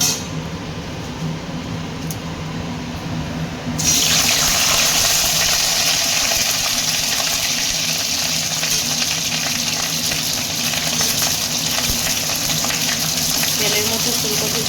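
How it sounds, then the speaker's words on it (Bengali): Cauliflower florets dropped into hot oil, the sizzle suddenly swelling into a loud, dense, continuous bubbling hiss that carries on steadily close by, with no voices. "তেলের মধ্যে ফুলকপিগুলো দিয়ে দিলাম"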